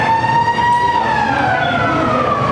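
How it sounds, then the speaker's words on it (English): Fire station alarm siren sounding for a dispatch, a loud sustained wail with slowly falling pitch, close and steady with no talking. "So they press a siren from there."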